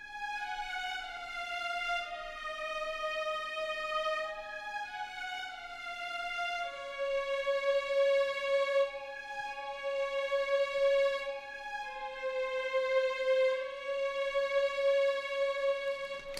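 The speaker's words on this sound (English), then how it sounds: "there adds this violin part, which is the BBC Symphony Orchestra from Spitfire Audio." A long-bowed violin from the Spitfire Audio BBC Symphony Orchestra library plays a slow, legato melody line of held notes, clear and alone throughout.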